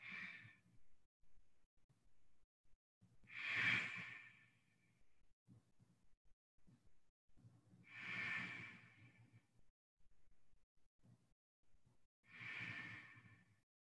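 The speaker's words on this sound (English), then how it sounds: "Ujjayi breathing with sound." Ujjayi yoga breathing with sound during a HIIT yoga session: four slow, audible ocean-like breaths with hissing throat friction, each swelling and fading, separated by quiet pauses, close and fairly soft.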